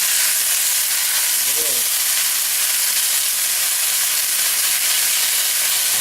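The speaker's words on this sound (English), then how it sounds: "That water burning off, giving us that nice little sizzle right there." Water cooks off in a hot pan with peppers and oil, giving a steady, loud, close hiss of sizzling that runs unbroken throughout.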